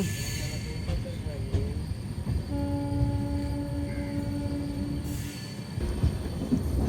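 Amrit Bharat Express passenger train running through Tenali in India, a steady low rumble of wheels on rails heard from on board, with a sustained whistle-like tone midway and voices talking faintly.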